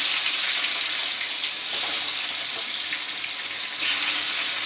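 Pointed gourd slices and small fish frying in oil in a pan, a steady loud hiss and crackle that keeps up throughout with brief bursts of sharper sizzling.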